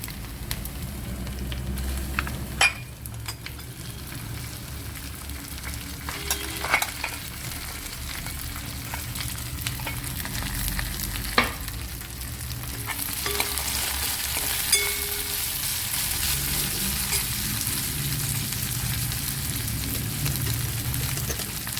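Okra and crushed ginger fry in a hot pan, giving a steady close sizzle throughout with sharp clatters of stirring, and the hiss swells louder in the second half as fresh ingredients hit the oil.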